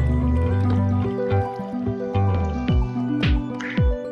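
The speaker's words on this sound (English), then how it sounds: "Oh, there's water, okay." Water drips in the video game Minecraft, irregular wet plinks and squishy droplets landing close and loud over a low droning background, with no talking.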